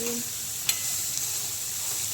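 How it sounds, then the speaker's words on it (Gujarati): Vegetables sauteed in a tempering for khichdi, giving a steady close sizzle with one faint stir or scrape and no talk. "જે શાકભાજી તૈયાર કર્યા હતા એ આપણે વઘારી દઈએ. એને મિક્સ કરીને આપણે સાંતળી લઈએ."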